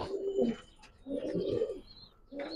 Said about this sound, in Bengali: অরিজিনাল এটা মাদ্রাজি কবুতর